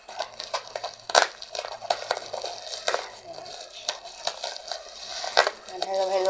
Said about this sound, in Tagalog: Putok-putok pa siya habang ginugunting.